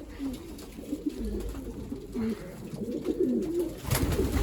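Young pigeons in a pigeon loft give soft, repeated low cooing calls close by, mixed with rustling and wing movement, while someone talks over them.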